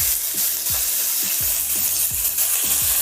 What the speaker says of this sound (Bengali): এবার আমি ভেজে নেব পেঁয়াজটা ভালো করে।